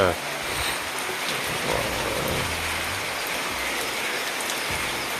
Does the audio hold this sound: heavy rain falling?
yes